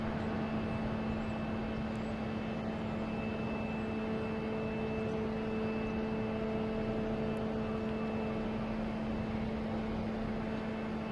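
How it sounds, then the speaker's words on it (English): An Airbus A380 on approach to Boston Logan from Munich, a steady, continuous engine drone with a low tonal hum holding evenly throughout, moderately distant. "Coming in from Munich, A380, flight 424."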